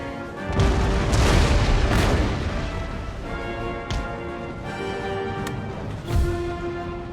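Cannons fire in an Empire: Total War battle, with heavy booms landing near the start and again later, and a loud rumbling battlefield din underneath.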